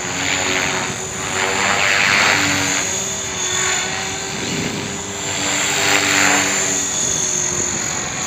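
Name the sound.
Hobbyking RC helicopter running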